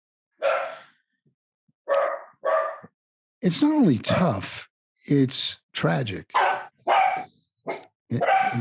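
A dog barks repeatedly in short, sharp bursts with brief yips, loud and close, spaced irregularly across the clip while a person speaks between and over the barks.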